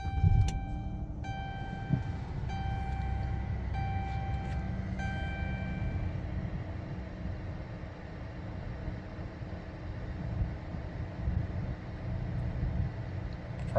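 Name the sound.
car with 3.6 Pentastar engine running after restart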